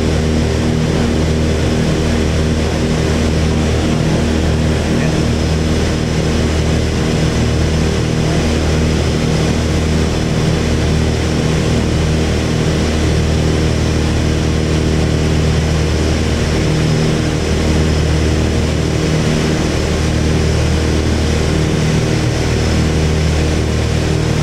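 Twin piston engines of a Piper Seneca light aircraft droning steadily in cruise, a loud, continuous low-pitched hum with propeller beat, heard from inside the cabin without speech.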